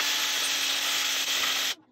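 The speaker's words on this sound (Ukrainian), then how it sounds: "Зараз поставлю вас на стоечку і покажу, що до чого, як воно шліфується." A homemade sanding wheel fitted with a brush and sandpaper grinds steadily against a surface, a loud, even abrasive hiss with a faint motor hum that cuts off abruptly near the end.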